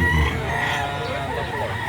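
Rooster for sale at a poultry market in Lipa City, Batangas, clucking and crowing close by against a busy market background, with faint voices.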